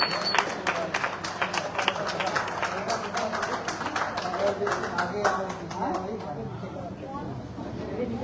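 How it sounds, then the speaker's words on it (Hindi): Applause and rhythmic clapping from a crowd at a car delivery ceremony in a showroom, steady and fairly close, with a voice calling out over the clapping. "तालियां होती रहनी चाहिए सर, जोरदार तालियां होनी चाहिए सर।"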